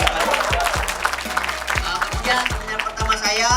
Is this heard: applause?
yes